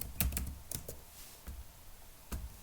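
Typing on a computer keyboard: a handful of quiet, irregular key clicks spread over a couple of seconds, close but faint.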